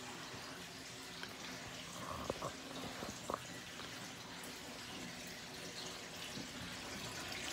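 Tap water runs steadily in a garage, a continuous soft broadband hiss with a few faint clicks and knocks near the middle, fairly quiet and unbroken throughout.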